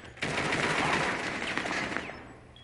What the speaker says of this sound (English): I think he's shooting someone.